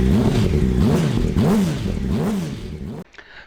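A warm Yamaha R1 motorbike engine runs close by, its revs rising and falling in rhythmic surges with a clattery edge, then cuts off abruptly near the end.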